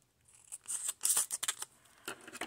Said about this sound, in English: we're just going to cut the package